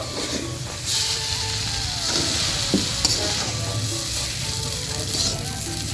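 Soya chunks stir-fry in a hot pan for egg chow mein with a steady, close sizzle. Occasional scraping clatters come from stirring, and there is no talk.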